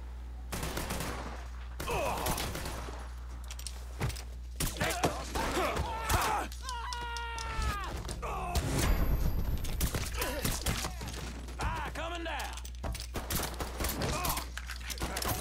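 Gunfire in the Mafia 3 video game during a firefight with reinforcements: rapid bursts of shots and fusillades repeat throughout, loud and close, with brief mechanical clicks and creaks between volleys.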